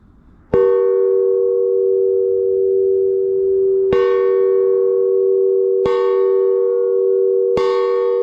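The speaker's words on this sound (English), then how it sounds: "I kind of like this chime." Clock chime bell ringing in a workshop, four clear struck tones with long ringing decay, spaced unevenly a few seconds apart, loud and alone.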